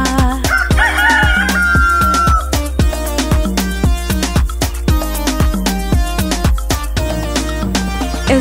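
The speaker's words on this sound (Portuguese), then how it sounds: "quando um galo me acordou," A rooster crows once, high and drawn out, near the start of a bouncy Portuguese-language children's song, sitting over steady drums and music that continue throughout.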